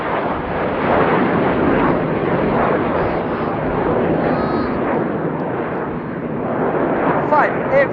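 A jet aerobatic team roars past at the RIAT air show, a loud, sustained, broad rushing thunder of engines that swells and holds across the pass, with a commentator's voice over it.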